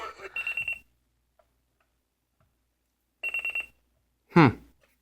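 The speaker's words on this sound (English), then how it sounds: "Let's see what the buzzer sounds like." Alarm buzzer of a Sony Dream Machine ICF-C218 AM/FM clock radio sounding in two short bursts of rapid pulsing beeps separated by silence, followed by a brief louder tone near the end.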